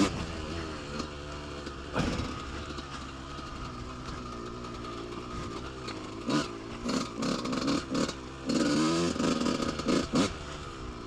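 A motocross bike ridden on a dry, dried-out dirt track with blind corners, its engine revving hard and continuously, rising and falling through bursts of throttle close to the rider.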